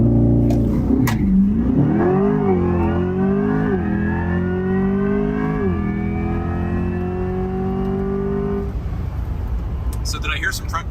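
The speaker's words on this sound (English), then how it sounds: "now we're gonna do an acceleration run. We're gonna do a launch control launch." A 2024 Chevrolet Corvette E-Ray hybrid AWD performs a launch control start, its engine note climbing steadily through a long, loud acceleration pull with gear shifts, then cutting off near the end.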